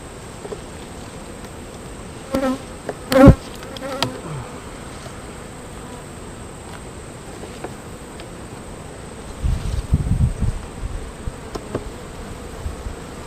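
Honeybees buzz around an open hive during a late July inspection, a faint steady drone under scattered louder bursts of wings near the frames, with a few sharp knocks and a low rumble toward the end.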